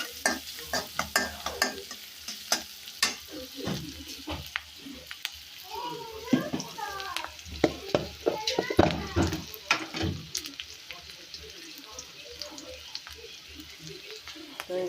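Ginger paste, turmeric and chili powder are stirred into a sizzling rohu fish and papaya curry, with a spoon scraping the pan in a steady rhythm over gentle frying, and someone talks in between.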